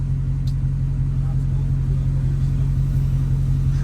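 Low, steady engine rumble from a Dodge Hellcat cruising through a city at night, a constant droning throb at fairly even loudness with no clear rev spikes.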